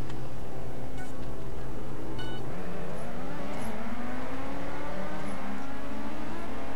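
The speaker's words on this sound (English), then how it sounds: "I can hear his V8 behind me" A V8 car engine in a street-racing video game, droning steadily close behind and rising in pitch as it accelerates, a whirring revving tone that holds through the whole stretch with no talk.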